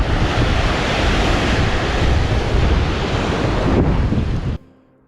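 Ocean waves and surf roll in at Point Cartwright on the Sunshine Coast in a loud, continuous wash, with wind buffeting the microphone, until the sound cuts off abruptly near the end.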